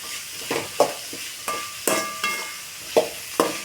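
Vegetables for a quick fried rice sizzle in a pan while being stirred, with a steady frying hiss punctuated by about eight sharp scraping and tossing strokes at irregular intervals, close and loud.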